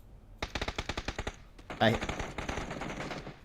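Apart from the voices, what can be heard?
gunshots in video game PUBG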